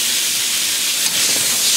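Filet mignon beef sizzles loudly in a hot wok over high heat for a Chinese beef chow foon stir fry, a dense, steady hiss close up with no voices.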